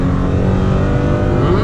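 A 2020 Toyota Tacoma TRD Sport engine revs hard while accelerating, a loud, continuous rising roar heard from inside the cab, with a voice faintly underneath.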